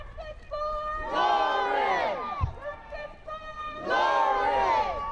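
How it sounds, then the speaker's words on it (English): A growing protest crowd marching through city streets, chanting in loud rhythmic bursts of many voices with quieter gaps between, near and energetic. "the growing crowd hit the streets."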